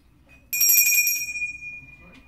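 A small bell used for vibration sound treatments is struck once, ringing out bright and close, then shimmering and fading over about a second and a half.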